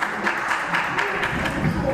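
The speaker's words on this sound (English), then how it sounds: "the crowd cheering him on" A wrestling crowd cheers on a wrestler fighting back to his feet, a dense roar of voices with rapid rhythmic clapping running through it, and a commentator talking over the noise.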